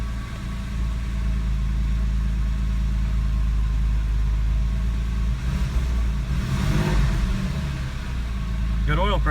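A Porsche 996 911 starts up after an oil change and settles into a steady, loud idle with a low rumbling drone, heard up close with a brief rise near the end.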